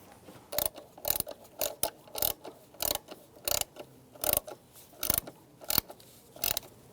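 A ratchet clicks in a steady series of sharp, evenly spaced strokes while tightening an ignition coil bolt on a 2006-2011 Cadillac DTS, close and clear with no talking.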